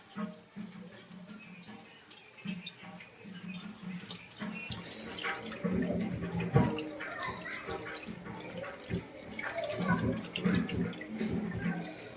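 Ground crab masala mixture for Malvani crab curry being strained, giving a continuous watery pouring and splashing that grows louder and fuller after the first few seconds, close by, with no talk.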